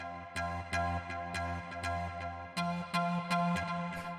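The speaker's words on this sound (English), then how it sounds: "The first sound we have here is the lead," Melodic techno synth lead at 122 BPM droning on one note, a quiet loop of rhythmic, plucky repeated hits with a rich buzzy tone, pulsing steadily with no voices over it.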